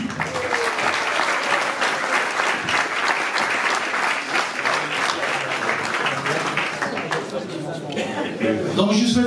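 An audience at the launch presentation of a night half-marathon in Nuits-Saint-Georges applauds its president, with loud, sustained, dense clapping filling the room for several seconds.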